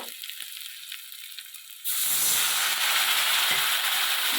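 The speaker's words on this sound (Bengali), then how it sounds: "দিয়ে ভালো করে আমি নেড়ে নেব সামান্য আমি জল দেবো" Ginger with turmeric stirred in a pan. A quieter crackle gives way to a loud, steady sizzle and hiss after water is added, close and continuous, with faint stirring scrapes.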